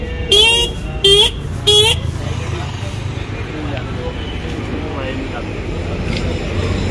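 A Suzuki Burgman scooter fitted with an added dual horn honks three short, loud blasts in quick succession, followed by street traffic noise and people talking nearby.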